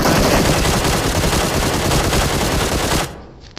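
Sustained automatic gunfire from PUBG Mobile, a dense loud burst of rapid shots running nonstop for about three seconds before cutting off abruptly into near silence.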